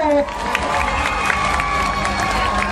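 A crowd cheers and claps for the players after a volleyball match at a school sports event, loud and continuous with shouting and children's voices mixed in, and an announcer's voice briefly heard at the start.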